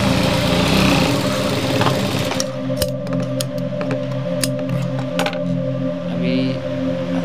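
A sewing machine stitches through a folded piece of cloth, its motor running in a steady, close hum with faint mechanical ticking throughout.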